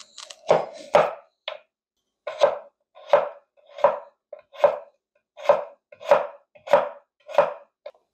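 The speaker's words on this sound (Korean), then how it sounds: "당근을 채 썰겠습니다." Knife julienning carrots on a cutting board: crisp, evenly spaced chopping knocks, about a dozen strokes in steady rhythm, close and clear against silence.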